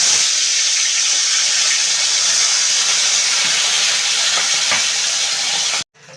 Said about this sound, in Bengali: কড়াইতে তেল দিয়ে দিচ্ছি তেলটা গরম হয়ে গেছে এবার একে একে মাছগুলোকে ভেজে নেবো